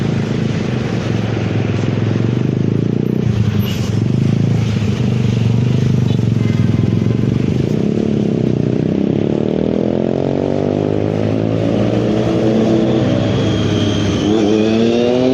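A motorcycle engine runs loudly and close for the whole stretch, idling with rising revs near the end.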